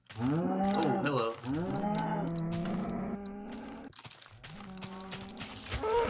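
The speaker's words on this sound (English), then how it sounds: "Go ahead and kill these cows now." Cows in Minecraft moo in a series of loud, drawn-out bellows close by, one after another with brief gaps between them.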